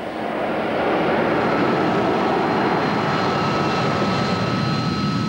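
A Harrier jump jet engine roars continuously at close range, a loud broadband rush with a thin high whine running through it.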